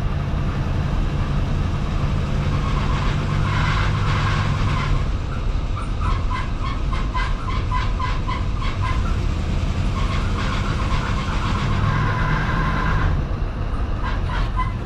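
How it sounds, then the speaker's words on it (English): An old car's air conditioning runs with a slipping belt, giving a steady engine-bay rumble and hiss beneath a faint repeating squeal and chirp that fades in and out. "You can hear the belt slipping in the background."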